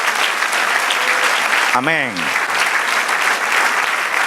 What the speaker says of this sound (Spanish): Dale otro aplauso, Señor.